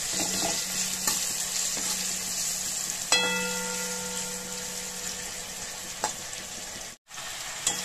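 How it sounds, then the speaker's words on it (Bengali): Raw mango pieces fry with salt and turmeric in a pan, a steady close sizzle with a few sharp scraping stirs and a brief dropout near the end. "আর সামান্য হলুদ দিয়ে ভালো করে আমি ভেজে নেব।"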